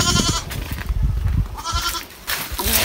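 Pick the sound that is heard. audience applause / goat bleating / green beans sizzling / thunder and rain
goat bleating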